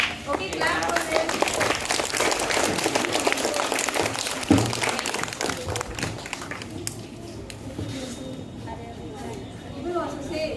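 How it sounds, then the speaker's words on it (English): A crowd at a school assembly claps steadily for several seconds, with children's voices mixed in, before the clapping thins out and fades toward the end. "Okay, clap for this."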